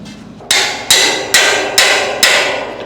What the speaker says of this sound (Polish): Młoteczek potrzebuję, jakbyś klupnął w to.